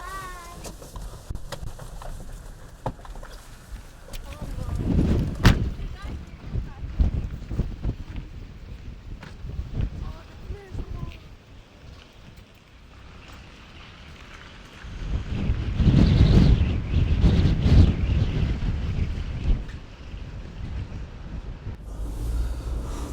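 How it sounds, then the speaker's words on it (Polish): Strong southerly storm wind in Greenland, blowing at roughly 25 to 30 metres per second, roaring and buffeting close to the microphone in surging gusts, loudest in two long bursts. "dzisiaj wieje z południa, jakieś, nie wiem, 25 metrów na sekundę, między 25 a 30"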